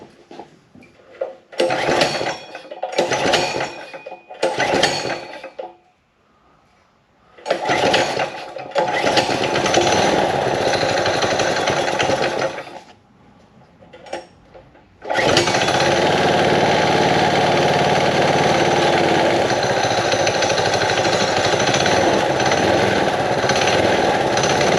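A small engine on a 30 series torque converter setup is pulled over in several short bursts, then catches and runs steadily, a loud close buzzing drone that rises and holds at higher revs.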